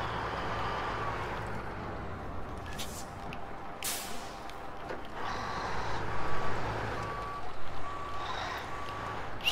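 Truck reversing beeps from a backing heavy vehicle in the SnowRunner video game, a steady repeating electronic tone over a low rumbling engine, with louder bursts of mechanical noise partway through.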